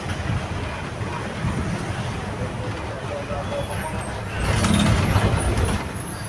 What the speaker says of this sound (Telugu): బస్సులో ట్రావెలింగ్.